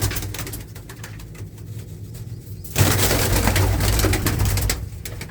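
Pigeons coo in a loft, soft and close at first, then joined by a sudden louder rush of sound midway that fills the space before easing off near the end.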